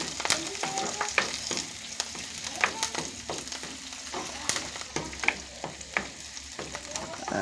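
Curry leaves and garlic pieces fry and hiss steadily in hot oil for a tin-fish curry, with a spoon scraping and stirring through the pan in repeated sharp clinks and rustles, close and continuous, with no talk.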